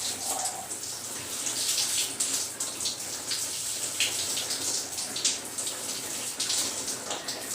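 A hot shower runs at full blast, a steady hissing spray of water with irregular splashes, continuous and fairly close.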